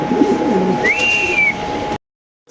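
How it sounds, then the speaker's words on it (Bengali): A foreign-breed pigeon coos up close, a soft warbling call with a brief rising whistle-like tone over a steady hum, cutting off abruptly near the end. "এটা বিদেশি কবুতর"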